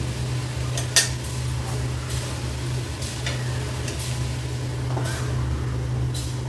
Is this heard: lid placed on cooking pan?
yes